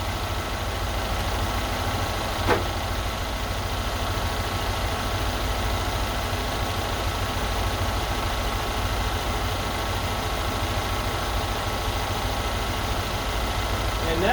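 A 2013 Mercedes SL550 bi-turbo engine idles steadily during a coolant change, a constant low hum with a faint click partway through.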